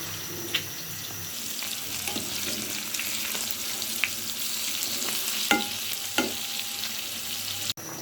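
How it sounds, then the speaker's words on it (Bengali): Fish and vegetable curry sizzles steadily in a pan, a continuous hiss of frying with occasional clinks and scrapes of stirring scattered throughout, close and unaccompanied by speech. "মাছ সবজিটা আমার কষানো হয়ে গেছে এই পর্যায়ে ডিম দিয়ে দিব"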